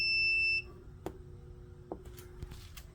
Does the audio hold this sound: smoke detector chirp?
yes